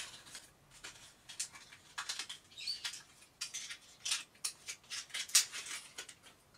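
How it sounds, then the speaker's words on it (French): Makeup products, blush and bronzer, being unwrapped: soft crinkly rustling and tearing of packaging in quick irregular bursts, close and quiet, no voices. "Je vais les déballer."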